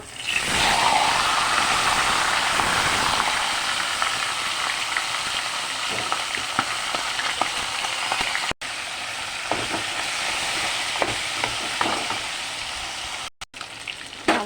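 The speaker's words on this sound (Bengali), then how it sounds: "প্রথমে আমি মাথাগুলি ভেজে নেব" Fish heads fry in hot oil in a steady, loud, dense sizzle that carries on unbroken, with occasional faint pops and spatters and two brief dropouts.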